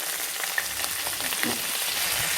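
Cauliflower florets fry in hot oil with turmeric, giving a dense, even sizzle that stays loud and close throughout, with a faint stir or two and no voices.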